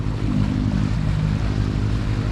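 A sailboat's engine runs steadily during anchoring, a loud, continuous low rumble with a droning hum throughout, close and unbroken.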